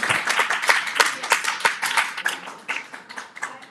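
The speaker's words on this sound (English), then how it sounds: "Let's give her a round of applause, everyone." Clapping from a live audience after an inspirational speaker in Geneva, a lively burst of many hands with distinct sharp claps that gradually thin out toward the end.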